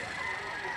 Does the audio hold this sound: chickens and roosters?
yes